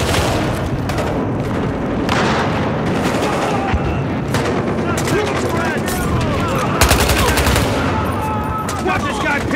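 Heavy gunfire fills a Battlefield Hardline bank-job firefight, dense overlapping bursts and loud close shots with booms behind, continuous throughout while voices shout over the battle.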